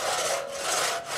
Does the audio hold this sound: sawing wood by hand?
yes